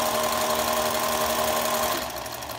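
A Singer 431G sewing machine with a low-voltage motor runs steadily through denim with a close, even, whirring mechanical hum that eases off slightly near the end.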